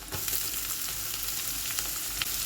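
Chopped cauliflower stalks and mixed vegetables fry in a pan, giving a continuous loud sizzle with scattered crackles and a few soft stirring scrapes, and no talking over it.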